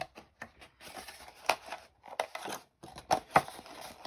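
Scissors snip through stiff card in a series of short, crisp cuts, close and fairly quiet, with small rustles between the snips.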